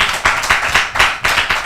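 A congregation claps loudly at a Telugu sermon about Jesus, with a dense, rhythmic burst of hand claps swelling in pulses, close and strong, with no talking over it.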